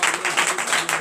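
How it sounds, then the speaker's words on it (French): Church congregation applauding its pastors during a night prayer service, brisk overlapping clapping in quick uneven bursts, close and fairly loud for about a second. "Donc il faut les applaudir pour ça."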